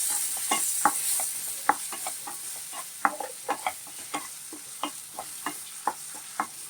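Ginger garlic paste with turmeric frying in a pan, a steady hiss punctuated by regular sharp ticks and spatters, close and fairly loud with no talking.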